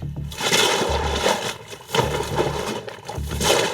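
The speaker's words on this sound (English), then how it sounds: "The constant sound of the water moving, when you're out of rhythm, when you're out of sync, you'll hear it." Water sloshes inside a HydroCore training bag as it is swung, coming in three heavy surges with rhythmic splashing bursts, loud and close with no talk.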